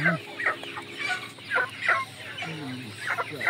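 An imported Indio Gigante chicken clucks in short repeated bursts, throaty calls rising and falling close by with small pauses between them.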